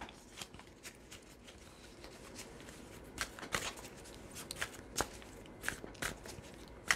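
Tarot cards are shuffled and handled close up for a reading, with quick papery riffles and soft flicks in irregular bursts, fairly quiet and without talking.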